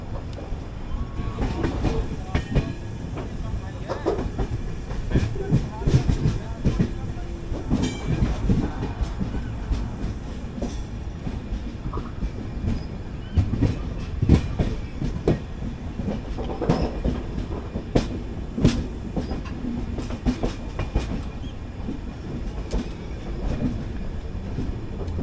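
The Mangala Lakshadweep Express rolls along near Bina Junction, with a continuous loud rumble of coaches full of rhythmic wheel clicks and clanks over rail joints, heard from on board.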